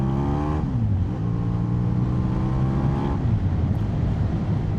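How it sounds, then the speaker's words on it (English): Yamaha XJ600 motorcycle engine revving on a country road, pitch rising and falling in two clear sweeps over a steady running drone, loud and close with no talk. "give me some revs, John."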